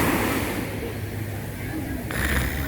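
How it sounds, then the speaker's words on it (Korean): Sea waves wash onto a crowded beach at Vung Tau in Vietnam as a steady, broad surf roar with wind noise, and a brief brighter surge near the end. "바다 소리 들린다, 참."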